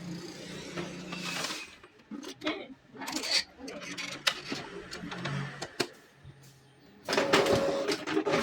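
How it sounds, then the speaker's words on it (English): Mechanical whirring and clicking bursts of an Epson inkjet printer drawing paper through after a paper feed problem was fixed, with intermittent rattling feed sounds and a louder grinding stretch near the end. "the printer is pulling paper again"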